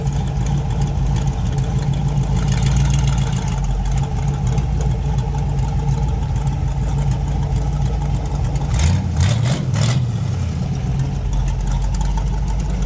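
A drag car engine at a raceway idles with its open headers, a loud, steady rumble that carries on throughout, with a brief sharper burst of revving near the end.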